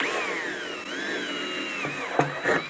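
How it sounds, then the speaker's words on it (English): A power drill whines steadily at high pitch, its tone rising and falling slightly as it bores a 3/16 inch hole in a Honda HRX217 NeXite mower deck, ending with a few clunks. "Time to drill a hole in my deck."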